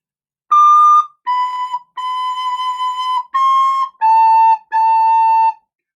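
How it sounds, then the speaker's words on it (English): A recorder plays the first two measures of the children's tune Lightly Row, a series of six clear, sustained notes with short gaps between them, close and solo with no talking. "So the first 2 measures sound like this."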